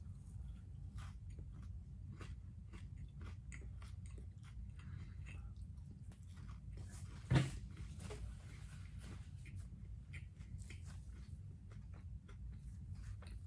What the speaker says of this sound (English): See? It's a lot of chewing.